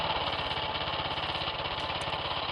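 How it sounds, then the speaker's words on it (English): A small engine drives a belt to the wheel shaft of a Cambodian bamboo train, running at a steady, loud, rapid chug, close by and alone, with no voices. "A belt is connected between the wheel shaft and the engine. Now the engine is started."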